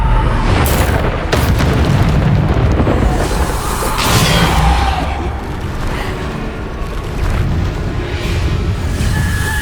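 Spell explosions in the Hogwarts Legacy video game, with heavy booms and blasts following one another in a dense, continuous barrage, loud and close, with combat noise filling every moment.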